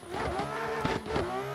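BMW M4 spinning a 360 in the Assetto Corsa racing game, with the engine droning and shifting pitch while the tires scrub through the spin, all of it close and steady.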